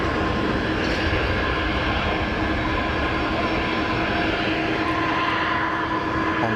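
A Delta airliner taxiing at Geneva Airport, bound for JFK: a steady, loud jet engine roar and whine that holds evenly throughout, with no talking.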